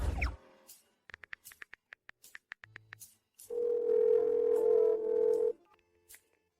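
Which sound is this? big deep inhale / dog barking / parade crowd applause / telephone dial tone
telephone dial tone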